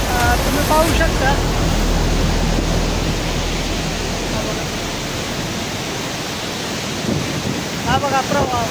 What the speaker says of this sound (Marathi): खूप जोरदार असा प्रवाह आहे पाण्याचा